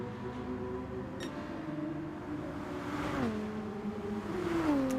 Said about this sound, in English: Just don't want to be overpowered by the noisy cars through these tunnels tonight.